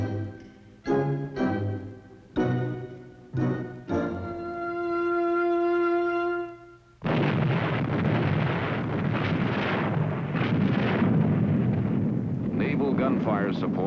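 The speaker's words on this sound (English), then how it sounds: "Naval gunfire support blasts enemy positions on the beach in preparation for the landing." Naval guns bombard enemy beach positions before an amphibious landing, several sharp, heavy booms in quick succession followed by a sustained rumbling roar and wind-like blast noise, loud and close.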